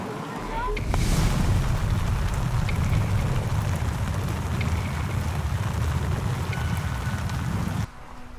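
Steady, dense rainfall hissing and pattering close by, continuous for several seconds before easing slightly at the end.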